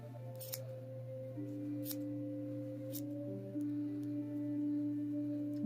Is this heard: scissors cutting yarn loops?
yes